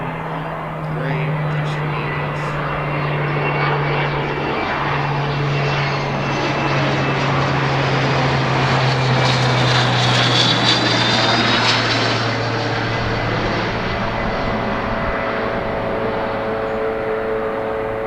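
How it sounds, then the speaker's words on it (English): JetBlue Airbus A220 airliner at Philadelphia International Airport, its jet engines rumbling and roaring steadily at moderate distance, swelling as it passes, with a low drone underneath and some talk mixed in. "JetBlue 2276 and a Airbus"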